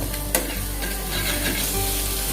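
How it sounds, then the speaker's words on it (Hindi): Paneer frying in a gravy of ketchup, onion and Maggi masala gives a close, steady sizzle with stirring scrapes and a sharp clack near the start. "मेरे पनीर को भी मैंने जो केचप और प्याज और मैगी मसाला का जो ग्रेवी बनाया था उसके साथ मैंने फ्राई कर लिया है"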